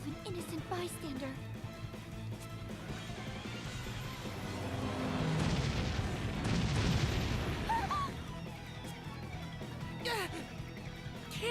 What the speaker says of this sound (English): Cannon fire? This is madness!